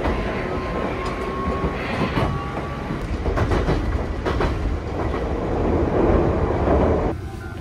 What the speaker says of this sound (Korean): 건너편에 딸기 열차가 멈췄습니다.